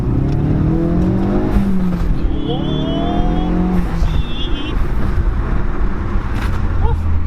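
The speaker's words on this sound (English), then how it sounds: "I hate when people rev their cars" Audi RS3 revving hard and loud nearby, rising and falling engine sweeps with a brief squealing, skidding edge, while people talk over the noise.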